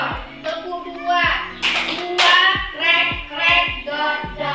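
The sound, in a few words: children doing a rhythmic clapping ice-breaking game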